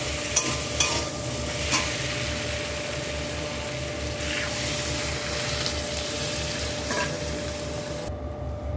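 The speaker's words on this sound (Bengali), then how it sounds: "মশলাটাও দিয়ে দিয়েছি এবার নাড়াচাড়া করে জল দিয়ে দেবো" Spice paste and small prawns sizzle and fry steadily in a pan for a Bengali prawn and ash gourd dish, with occasional scraping stirs of a spoon over a continuous hiss; no talking.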